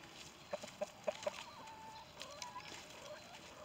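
Several chickens cluck softly in a coop bedded with cedar chips, a handful of short clucks coming close together early on, then quieter scattered calls over faint background hiss.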